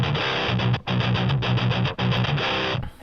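An electric guitar played through the Amp Locker amp sim, set up like a VHT Pitbull with its bundled cab, rings out a loud distorted riff with a couple of short gaps, no voices.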